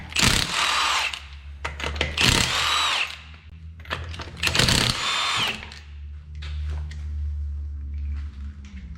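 A power impact tool spins off 21mm lug nuts from a Mazda 3 front wheel, with loud repeated bursts of high-pitched whirring and rattling, separated by short pauses and lower mechanical clatter.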